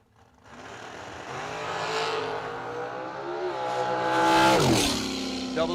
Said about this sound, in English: Dragster.